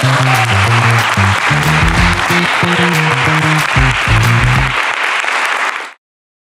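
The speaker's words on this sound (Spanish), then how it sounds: "Un aplauso, chicos, para todos ustedes." Loud, dense applause fills the whole stretch, with a tonal melody running underneath, then stops abruptly near the end.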